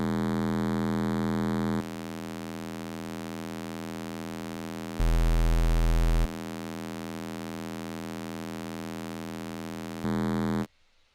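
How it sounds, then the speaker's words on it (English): A single-oscillator synth bass in Ableton, run through distortion, drones as a steady buzzing tone rich in harmonics, switching between distortion types with sudden jumps in loudness and texture before stopping. "Now we can try playing with the different distortion types."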